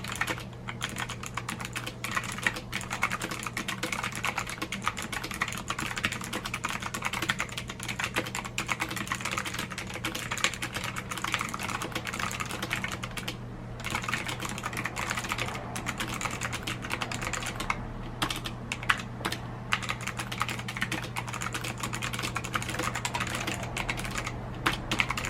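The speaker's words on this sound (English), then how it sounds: "here's what the keyboard sounds like" Continuous typing on a SteelSeries Apex 5 hybrid mechanical gaming keyboard with Cherry stabilizers, close and steady, dense rapid keystrokes with a few short pauses and no talking.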